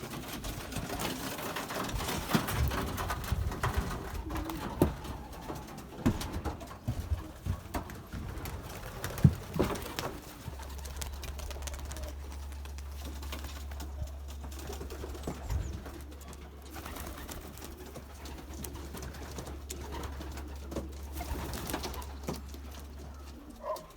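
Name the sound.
racing pigeons cooing in a loft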